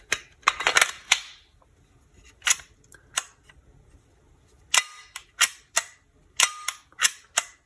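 An Umarex Glock 17 CO2 BB airgun with blowback fires in sharp, snappy cracks, each shot cycling the slide, in quick clusters separated by brief pauses.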